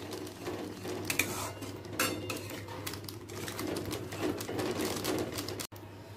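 Shukto spice mix with cashews frying in a pan, a quiet hiss under rapid clinking and scraping of a spoon against metal, close and continuous with no talk.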